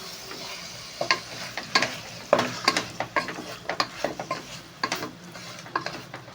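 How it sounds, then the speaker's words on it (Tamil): Chicken biryani masala being stirred in a pot, a series of close, loud scraping and clattering spoon strokes in an uneven rhythm over a faint sizzle. "இப்போ கிண்டி விட்டுக்கலாம்"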